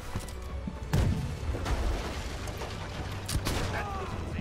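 Ship cannons boom during a naval battle in the pirate game Blackwake, several heavy blasts landing amid constant battle noise while voices shout over the din.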